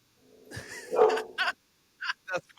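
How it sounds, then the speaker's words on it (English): Several dogs barking and yipping at home, a burst of barks followed by a pause and then a few more short, sharp barks and a whimper, moderately loud and close. "You hear them? You hear my dogs?"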